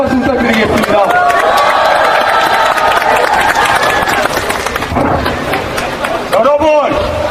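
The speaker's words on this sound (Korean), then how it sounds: "여러분, 큰 박수 부탁드리겠습니다" Crowd applause and clapping at an outdoor street rally in front of a bank, a steady loud wash of claps and cheering with a public-address voice talking over it and a sharp burst near the end.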